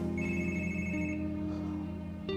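A telephone rings steadily at moderate level, its repeating electronic tone sustained across the whole moment with no voices over it.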